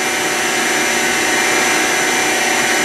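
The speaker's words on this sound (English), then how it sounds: "You'll hear it enter the drill bushing in a second." An Eldorado M75-15 twin spindle gun drill bores steadily, a loud, unbroken high-pitched machining whine with a dense mechanical hiss that holds at constant level throughout, no voices.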